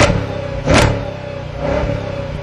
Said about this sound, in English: That is the sound of a 425-power Hemi engine.